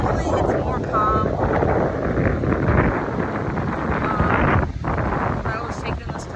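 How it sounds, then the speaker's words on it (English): Strong wind buffets the microphone at a beach while hard-running tides surge, a constant loud rushing roar with no break. "look at the tides, like the wind is blowing, the tides are coming hard"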